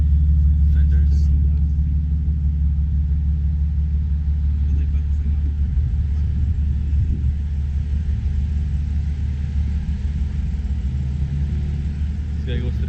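A BMW M4, pre-facelift, with a Dinan exhaust and decatted downpipe rumbles at a steady, loud idle, with a deep low drone running unbroken throughout and no voices.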